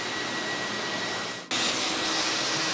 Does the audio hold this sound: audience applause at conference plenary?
no